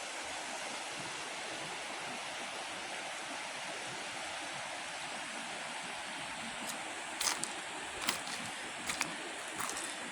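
Steady broadband rush of the Bear River in December at about 540 cfs, flowing past cobble banks near a pond; continuous and fairly even, with a few brief sharper splashes toward the end and no talking.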